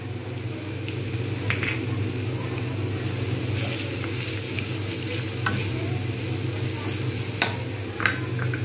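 Ground coriander, cumin, chili and turmeric fry in a pan, sizzling steadily while a utensil scrapes and stirs, with occasional sharper clinks against the pan.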